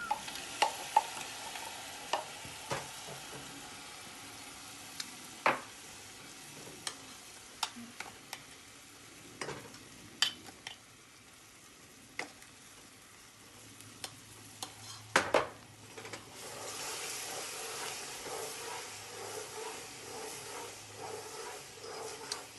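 Thick brigadeiro mixture of butter, condensed milk and chocolate powder being stirred in a pan, a faint soft sizzle broken by scattered scraping clicks and taps of the spoon against the pan, with no speech.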